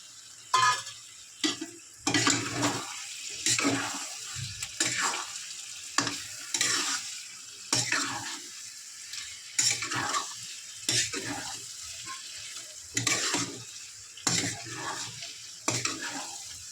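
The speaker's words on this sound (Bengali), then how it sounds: "ভালো করে চিংড়ি দিয়েছি, একটু কষিয়ে নেবো।" Prawns sizzle in a pan of pointed gourd curry with yogurt as a spatula scrapes and stirs in regular strokes, each pass bringing a brief burst of frying over a quiet background.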